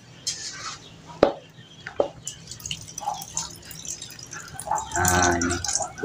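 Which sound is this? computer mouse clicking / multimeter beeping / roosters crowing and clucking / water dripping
water dripping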